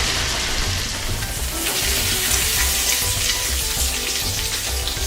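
A steak sears in a pan of hot oil with a little butter, giving a loud, continuous sizzle that stays close and even throughout.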